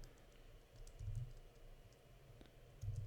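A computer keyboard is typed on with a few faint, quick key clicks against a quiet room hum, including a couple of slightly heavier taps.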